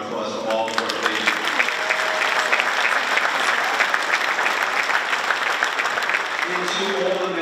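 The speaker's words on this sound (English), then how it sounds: "I'd just love to give all of them a big round of applause for all the work they do." An audience at a school strings festival concert gives dense, loud applause that swells and holds for several seconds. Brief tonal sounds and voices are heard at the start and end.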